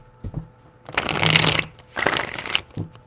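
Tarot cards being shuffled by hand, two long riffling bursts with a few short taps of the deck before and after, close and fairly loud with no talking.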